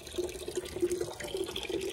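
Tap water running steadily into a bucket or sink, soft and continuous for a brief moment.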